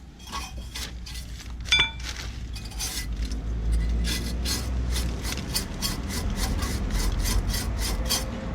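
A metal wire brush scrubs the rear brake parts and caliper supports of a Peugeot 307, rapid rasping strokes that turn into a regular back-and-forth scraping rhythm, close and fairly loud, with a brief clink near the start.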